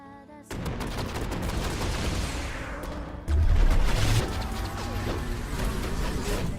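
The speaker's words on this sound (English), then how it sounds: "I was being hit by the pile of bullets that she fires" Rapid bursts of video-game gunfire with bullets striking and crashing, a dense continuous barrage that swells louder midway before settling back to a steady clatter.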